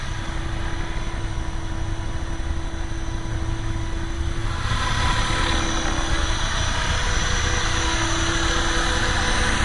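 Model aircraft in flight, a continuous buzzing propeller drone that rises noticeably louder and brighter about halfway through as it passes nearer.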